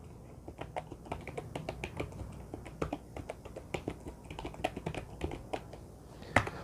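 Keys tapped on a computer keyboard while entering a corrected spelling in a Google Docs document, a close, quiet run of irregular clicks with one louder keystroke near the end.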